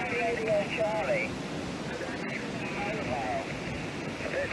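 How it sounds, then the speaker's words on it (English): Steady wind gusts blow around a cyclist's mobile Clansman 320 radio with whip antenna in windy Blackpool, forming a continuous rushing roar with faint whistling tones and radio chatter beneath it. "The background noise of the wind."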